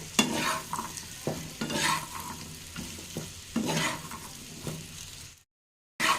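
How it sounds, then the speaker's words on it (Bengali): Chopped potatoes with spices are stirred in a pan, scraping and sizzling in irregular strokes close by, then brief silence before the stirring resumes. "এবার আলুটাকে ভালো করে একটু মশলার সঙ্গে মিশিয়ে নিতে হবে"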